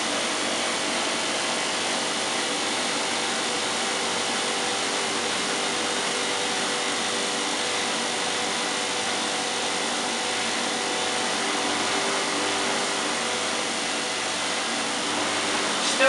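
A 1986 Hotpoint Supermatic Plus 9400 twin tub spinning at 3,100 RPM gives a steady, loud, continuous whirring roar that holds evenly throughout, close by and with no talking.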